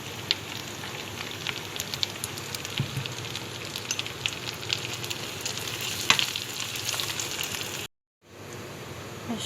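Butter and spices fry in a pan with a steady, close crackling sizzle and scattered sharp pops, continuing for several seconds before cutting off abruptly near the end.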